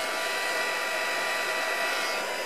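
A heat tool blows steadily, drying a wet string pull painting at close range, its broadband whoosh unbroken and loud throughout with no talk.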